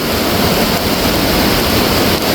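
Loud, steady rush of fast-flowing river water, a dense continuous roar close by, as a flash flood on the Iruvanjippuzha river rises over the rocks.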